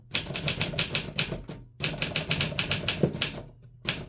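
Quick, crisp keystrokes on a manual typewriter with elite type, clacking in fast bursts of about a dozen strikes, broken by a brief pause, then resuming, close and loud with no voices.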